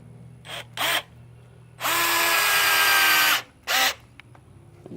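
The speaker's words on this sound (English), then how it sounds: "And then compared to the matrix drill," A Matrix power drill boring into wood, two short motor bursts, then a long steady whir lasting about a second and a half, and one more short burst, loud and close with no talking.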